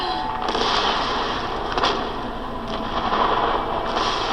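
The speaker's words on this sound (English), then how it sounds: "Yeah, explosion." A massive explosion in the Star Wars series The Acolyte roars as a continuous, dense, booming rumble for about four seconds, with crackling bursts swelling and receding throughout.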